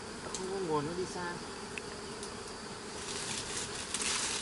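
Honey bees flying back to the hive during the honey season in Binh Phuoc, a steady close buzzing drone lasting throughout, with a few faint higher chirps early on.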